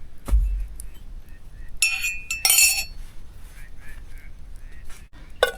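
A drinking glass clinks a few times up close, with two bright ringing knocks in the middle of quiet handling noise, low background rumble and faint voices.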